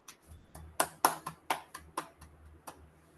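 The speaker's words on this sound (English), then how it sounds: "Can we have a big round of applause for TTM Sourav Dutta?" Applause at an online Toastmasters club meeting: a short burst of hand clapping, roughly a dozen sharp claps at an uneven rhythm, close and fairly loud, then tapering off.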